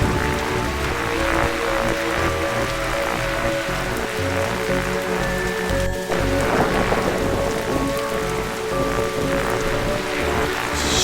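Steady heavy rainfall in The Darkside Detective video game, a dense continuous hiss at night with low musical tones running beneath it, loud throughout.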